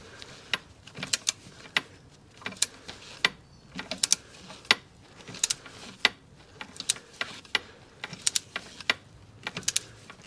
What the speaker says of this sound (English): So now I'm going to torque it down to 26 Newton meters without taking my magnetic swivel out.